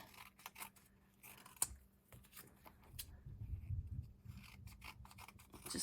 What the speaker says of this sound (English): I do need to trim this a little bit